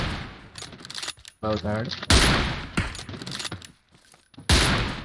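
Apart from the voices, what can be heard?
gunfire in video game PUBG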